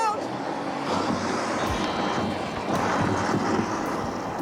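A homemade gummy bear rocket engine misfires, giving a steady loud rushing, windy hiss with faint thuds and no clean roar, going on without a break.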